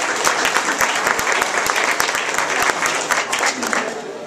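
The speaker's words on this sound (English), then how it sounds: "give them a big round of applause as well" Audience applause at a hospital ribbon cutting celebration, a dense burst of steady clapping from a crowd, loud and close, with some chatter mixed in.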